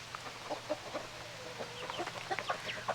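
Backyard chickens cluck outside their coop, a mother hen among them, giving a busy run of short overlapping clucks and murmurs at close to moderate distance with no talking.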